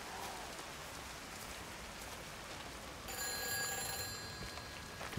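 A telephone ringing in the video game Everyone's Gone to the Rapture, a thin electronic ring that starts partway through over a constant bed of rain.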